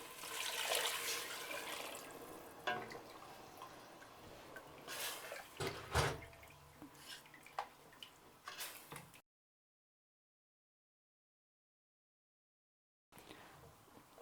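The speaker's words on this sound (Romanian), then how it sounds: "Punem 500 ml de apă." Water, 500 ml, is poured into a cooking pot of bean stew with smoked meat, a close gushing splash that fades into scattered knocks and drips before a silent gap and a brief return of faint sound.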